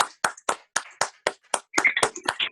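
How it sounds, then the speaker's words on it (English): About a dozen sharp, close hand claps with a snappy tone ring out in a remote group meeting. They start slow and evenly spaced, then bunch into a quicker burst toward the end. "I can give her a round of applause or hand clap, snaps, all that good stuff"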